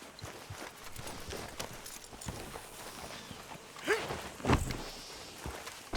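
Horse hooves clip-clopping at a slow walking pace in the video game Red Dead Redemption 2, with a couple of heavier thuds standing out midway.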